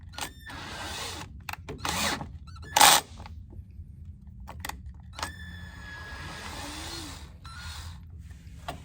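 A power drill drives screws to flush mount a Lowrance 3-in-1 transducer, giving short, separate whirring bursts with high squeaks and gaps between them, close by.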